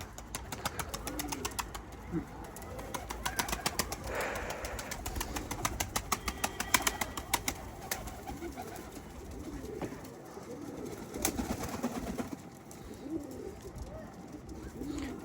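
Pigeons coo repeatedly at a coop while wings flap now and then, with low background noise and a faint voice at times.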